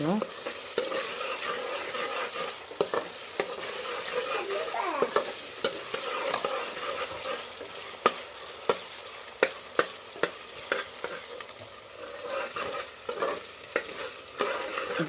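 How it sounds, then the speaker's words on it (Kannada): Masala sizzling in oil in a pan for a mutton curry, cooked outdoors in a farm field, with steady frying hiss and repeated sharp scrapes and clacks of a spoon stirring, close and alone. "ಚೆಂದಾಗಿ ಫ್ರೈ ಮಾಡ್ಕೊತೀನಿ ರೀ ಅದಕ್ಕೆ ಎಣ್ಣೆ ಇವಾಗ ಚೆಂದಾಗಿ ಚೆಂದ ಕಡಕ್ಕಾಗಿ ಫ್ರೈ ಮಾಡ್ಕೊಂಡಂದ್ರೆ ಟೇಸ್ಟಿ ಬರ್ತದೆ ರೀ"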